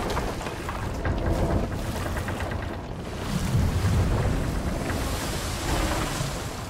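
In a pirate sailing video game, a ship takes on water and sinks at sea, heard as continuous rushing waves, sloshing water and wind noise swelling steadily throughout with no speech.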